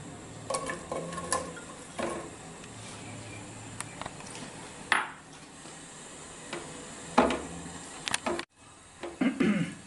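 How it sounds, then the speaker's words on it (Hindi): Onions sautéing in ghee in a pan over medium-low flame, a faint steady sizzle with occasional stirring scrapes and clinks of the pan, quiet throughout. "बस ये प्याज डाली हमने और प्याज़ों को हम थोड़ा सा जो है वो सौते कर लेंगे जी।"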